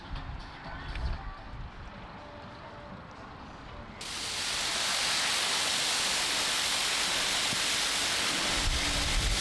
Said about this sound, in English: Water pressure doing its thing.